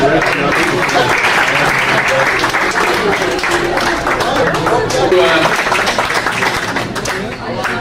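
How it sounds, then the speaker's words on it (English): An audience at an evening fundraising event applauds the violinist, a loud, sustained round of many hands clapping with crowd chatter and voices mixed in throughout. "let's give him another round of applause"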